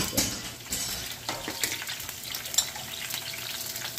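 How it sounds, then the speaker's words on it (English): Ingredients toast in a pan over high heat, giving a continuous crackling sizzle with a few light clinks of a utensil, close and moderately loud with no voices. "High heat. I'm going to toast those up"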